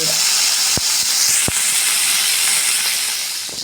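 Loud, steady hiss of fish frying in hot oil, with a couple of sharp pops crackling through the sizzle.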